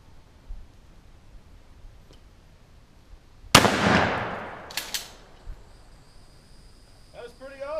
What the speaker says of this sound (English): I think I'm gonna shoot it with a shotgun.